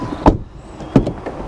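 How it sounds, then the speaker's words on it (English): Electric sliding door on a Volkswagen Multivan seven-seater, heard up close as two sharp mechanical clunks with a soft motor whir and rattle between them, with no talking. "so we have electric doors fitted to this model"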